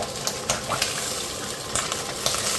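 Garlic goes into a hot pan of oil for pancit canton, giving a steady, fairly loud sizzle and frying hiss with a few small clinks and stirring scrapes along the way.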